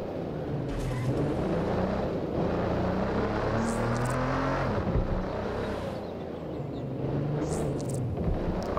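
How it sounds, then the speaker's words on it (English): Car engine droning steadily while driving through London in Watch Dogs: Legion, a loud continuous motor hum with shifting pitch as it accelerates, with no voices. "I love the sound of this car."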